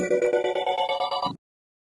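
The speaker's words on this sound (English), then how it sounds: "now we have that slow sweep across the harmonics combined with the 16th note pulsing from" A Cherry Audio Harmonia software synth plays a bright, bell-like tone that slowly sweeps across its harmonics, chopped into rapid, even 16th-note pulses before stopping abruptly.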